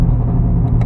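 A BMW G80 M3 with an aftermarket Valvetronic HFD midpipe exhaust, valves open in M2 mode, rumbles with a deep, steady, loud idle burble close by.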